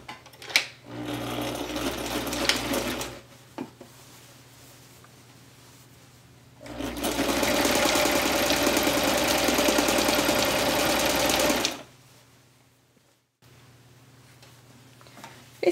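A sewing machine stitches around the top edge of a drawstring backpack in two long runs, a steady close whirring hum with a quiet pause between them and a short burst near the start.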